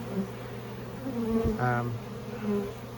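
Honey bees from a cutout colony buzz around a Layens hive in a loud, close drone, individual bees whining past in swells over a low steady hum.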